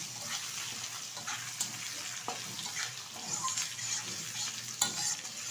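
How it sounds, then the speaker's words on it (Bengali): Burnt coconut frying in a pan with fried hilsa fish head, a soft steady sizzle with occasional stirring scrapes and clicks, fairly quiet and close. "পুড়িয়ে রাখা নারকেলটা একটু ভেজে নিচ্ছি।"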